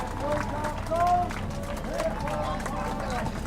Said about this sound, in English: we hear the crowd clapping and everybody standing on their feet for the 82nd Airborne Division